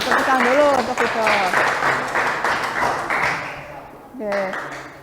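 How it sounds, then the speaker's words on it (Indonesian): Classroom applause for a student during a lesson on separating mixtures, a burst of clapping mixed with children's voices and chatter, fading then returning briefly near the end. "Ya, tepukan dulu untuk Vido."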